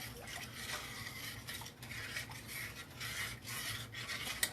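A spoon stirs creamed chicken in a cooking pot, giving a steady soft scraping and rubbing with faint clinks against the metal, continuous and close for a few seconds.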